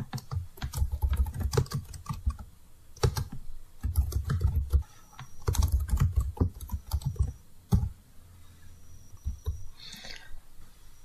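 Typing on a computer keyboard while writing a Microsoft Word document: close, irregular bursts of key clicks and clacks with short pauses between runs.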